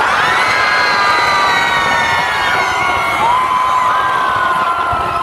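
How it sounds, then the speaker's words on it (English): High school juniors scream together at a school assembly, a loud sustained wall of shrieking and cheering voices from a large crowd filling the whole clip. "Juniors, on your scream, go!"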